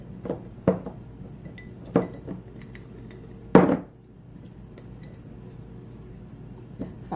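Potatoes packed into glass canning jars for garlic potatoes, giving a few sharp clinks and knocks at irregular moments, close by, with quiet gaps between and no talking.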